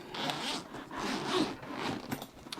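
The zipper on the carrying case of a TrendNetworks FiberMASTER fiber tester rasps open in several close, quick pulls, crisp and near with short pauses between strokes.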